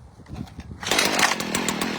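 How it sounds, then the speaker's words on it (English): A gas-powered weed eater (string trimmer) starts up partway through, then runs steadily in a loud, close, buzzing whine while a yard is being mowed and trimmed around a pole. "pick up my weed eater here."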